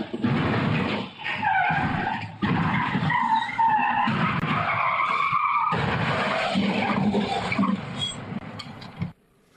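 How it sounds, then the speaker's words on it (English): A stolen pickup truck slides off an unsecured tow truck flatbed, producing loud sustained tire skidding and scraping squeals in bursts, close and dominant throughout before cutting off at the end. "This is the sound of what happens when you try to steal a pickup truck and you don't secure it."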